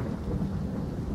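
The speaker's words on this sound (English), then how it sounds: "It's raining." Rain and thunder in the battle-royale game PUBG produce a continuous low rumble with a steady wash of rainfall. The short stretch is moderately loud and unbroken, with no voices.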